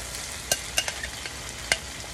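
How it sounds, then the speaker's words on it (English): Shrimp sizzle in olive oil in a pan, a steady bright frying hiss with a few sharp spoon or pan clicks scattered across it, close and fairly quiet, no voices. "And now we will add our shrimp."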